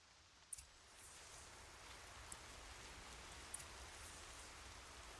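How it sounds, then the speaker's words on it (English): Rain falls steadily in the video game Horizon Zero Dawn, a soft, even hiss of drops with a few faint clicks and no voices. "Rain's not so bad."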